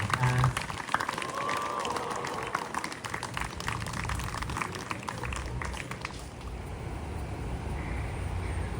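An outdoor crowd applauds a band in Honolulu, a dense wash of clapping that swells and then thins toward the end, with some talk mixed in.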